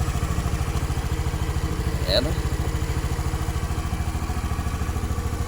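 A Honda Vario 110 fi motor scooter from 2015 idles close by with a steady fast putter, while someone briefly speaks over it.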